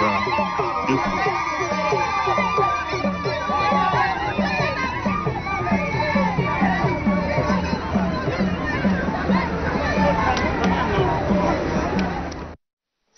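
An outdoor crowd greets an official delegation that includes Chad's petroleum and energy minister at the Baoré cement works, with a dense, steady babble of many voices, shouts and children's cries. A rhythmic drumming pulse runs underneath the whole scene.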